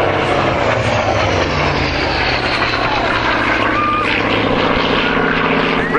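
A large warbird with a 2,500 hp twin-row radial engine and a huge five-bladed propeller roars past at an airshow, its loud, sustained drone filling the air steadily throughout.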